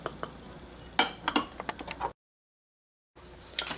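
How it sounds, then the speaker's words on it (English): A whisk clinking rapidly against a bowl while salt and cornstarch are beaten into egg yolks, a quick run of close metallic taps that cuts to a second of silence before resuming. "Whisk to combine."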